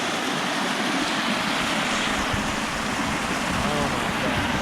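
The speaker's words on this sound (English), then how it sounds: "Little waterfall. Little Wadi fall." A small waterfall in Wadi Al Arbeieen, Oman, gives a steady, dense rush of falling water, continuous and fairly close, with a voice heard faintly over it.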